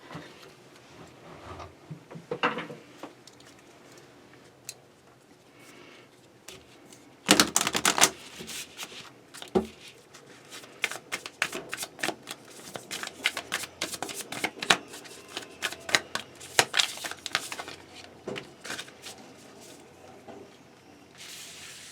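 Oracle cards being shuffled, with soft riffling at first, then a sharp burst of rapid flicking and sustained crisp card shuffling close up in a quiet room.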